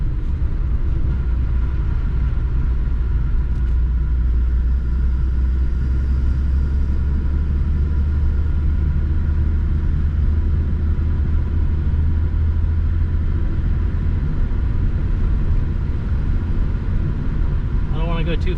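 An abandoned 1953 Plymouth Cranbrook, revived after more than 25 years, rumbles along on worn tires. Its low engine drone holds steady and loud throughout, with voices talking over it.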